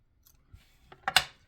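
Scissors snipping through a scrap of white cardstock for a stamped Valentine card, a few faint cuts followed by two louder, close crisp snips, with no talking.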